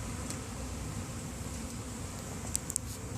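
Honeybees newly moved into a hive box in a bee garden, crowding onto honey: a soft, continuous low buzz of many bees close by, with a couple of brief louder passes near the end and no speech.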